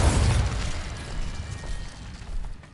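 A single deep explosion from the Bombarda spell in Hogwarts Legacy, a heavy boom at the start that rumbles and decays over a couple of seconds.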